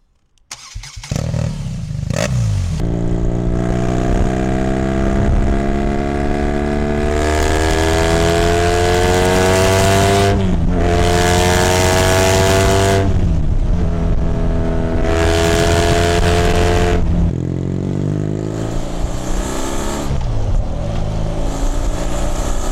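Motorcycle engine starting up and running, idling then revving several times in rising, falling sweeps, loud and close with brief gear-like pauses between pulls.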